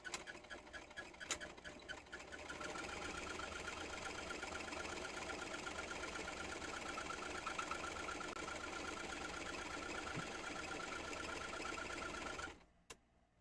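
A sewing machine runs a straight stitch through fabric, a fast, even mechanical whir that holds steady for about ten seconds before stopping, faint and close with no talking.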